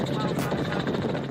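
Helicopter on a sightseeing flight over Rio de Janeiro gives a steady, loud rotor and engine drone with wind rush, heard from inside the cabin under a voice.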